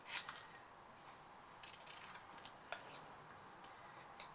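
Scissors cutting a piece of card in small, careful snips, faint crisp clicks and rasps scattered irregularly through a quiet room, with no talking.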